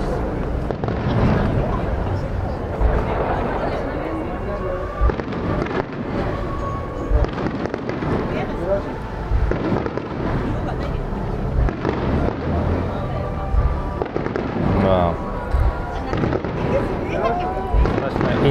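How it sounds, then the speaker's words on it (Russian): Fireworks burst repeatedly at a festival in Japan, a continuous barrage of booms and crackles at a distance, with people talking throughout. "Интересные, конечно, фейерверки в Японии, много разнообразных"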